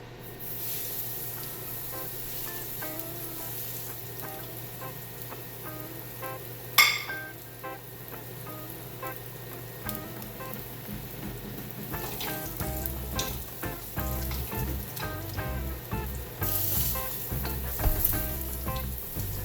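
Salmon sears in an oiled pan over medium heat, giving a loud, continuous sizzle with crackling spatter and one sharp clank of the pan. The frying grows busier toward the end, with no talk.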